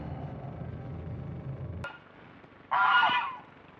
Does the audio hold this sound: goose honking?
yes